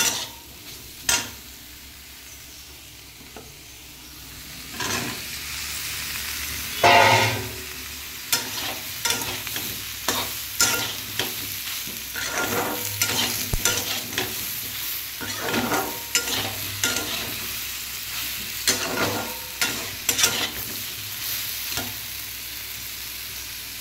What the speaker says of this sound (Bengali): সয়াবিনের তরকারিটা করছি। আলুগুলো দেবো এবার এর উপরে।